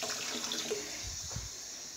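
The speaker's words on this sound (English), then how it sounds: "Then we get the water from the tap." Cold water runs from a kitchen tap, filled for water-based porridge, a short, steady splashing stream that is close and fairly soft.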